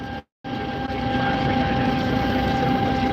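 An empty combine harvester being driven down the road, its engine giving a steady, loud, continuous roar with a droning hum that briefly cuts out near the start before resuming.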